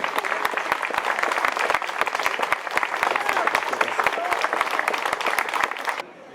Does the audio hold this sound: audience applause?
yes